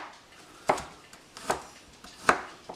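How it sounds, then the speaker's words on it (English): Garlic and other sliced ingredients for pico de gallo being chopped on a cutting board: three or four sharp, separate knife strikes at an uneven pace, close and clear with no talk. "And then once I have it all sliced, then I chop it"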